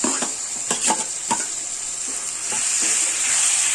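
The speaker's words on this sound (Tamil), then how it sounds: "இப்போ நான் இதில் கட் பண்ணி வச்சிருக்க தக்காளியை கொஞ்சம் கொஞ்சமா ஆட் பண்ண போறேன்" Tomato pieces dropped into browned onions sizzling in hot oil in a pan, a steady frying hiss with several short clicks and stirring scrapes spaced through, close and fairly loud.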